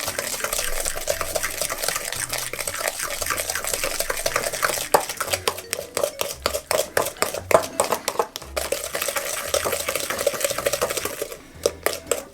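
Sugar and milk beaten by hand in a bowl, a fast steady clatter of a whisk scraping and tapping against the sides, close and continuous with a brief pause near the end.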